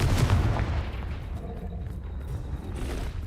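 Spell effects in the Hogwarts Legacy video game, opening with a loud concussive blast and trailing off into rumbling, crackling impacts.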